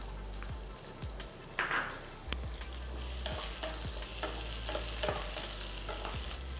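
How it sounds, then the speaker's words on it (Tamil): Onions stirred in a frying pan for a meal maker fry, with steady close sizzling and repeated scraping strokes of the spoon running throughout, no voices. "இப்போ நம்ம மீன் மேக்கர் வதக்கல் பண்ணிக்கலாம்"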